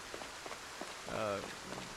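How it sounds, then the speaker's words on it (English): Heavy rain pouring in the video game Project Zomboid, a steady hiss of drops on surfaces under someone speaking in the foreground. "It's starting to come down pretty hard now. The rain is getting everything soaked."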